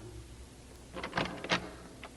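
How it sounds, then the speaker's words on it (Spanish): A door is opened in a Spanish-language radio drama. Quiet room tone gives way to a cluster of rattling, creaking knocks from the handle and door over about a second. "Mejor será que abra la puerta y lo llame."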